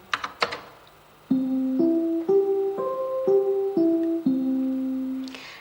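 A computer plays back a short programmed melody: seven or eight clean, sustained synthesized tones stepping up and down in an even rhythm, loud and close, preceded by a few sharp clicks.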